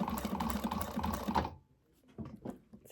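A sewing machine stitching fabric runs in a fast rattling burst, close and loud, then stops and gives a few softer slow stitches.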